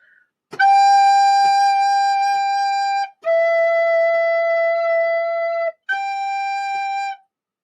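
Recorder notes played at a children's music lesson: three sustained, steady tones, the first lasting about two and a half seconds, then another of similar length, then a shorter one, clear and close with no talking.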